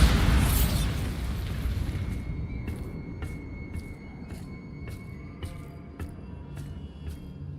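The Bombarda spell in Hogwarts Legacy detonates with a loud booming explosion that fades into a rumble, followed by a series of sharp crackling pops spaced about half a second apart.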